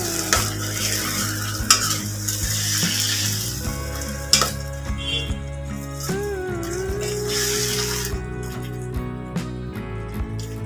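Blended tomato paste fries and bubbles in a pan while being stirred, with a close, continuous sizzle, clinks of the spoon and occasional sharp scrapes.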